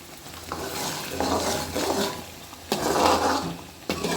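Milk cream cooking down into ghee in a pan, bubbling and frying while a spoon stirs and scrapes in several bursts, close and without speech.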